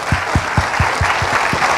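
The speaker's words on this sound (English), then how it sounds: "Please join me in applauding Dr. Rajeevan for a wonderful lecture." A lecture audience applauds, steady rhythmic clapping from a seated crowd in a hall, moderately loud and close, with no speech over it.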